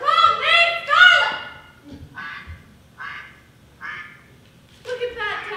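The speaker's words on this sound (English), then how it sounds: "You see the flock of ducks flying?" A flock of ducks quacks in several loud, nasal bursts that thin out into fainter calls, then rise again, with a person speaking among them.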